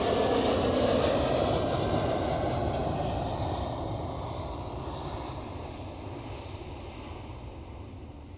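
A British Airways airliner at Zurich Airport roars past as a broad, loud jet engine rush that slowly fades over several seconds, with a faint high whine on top and no voices.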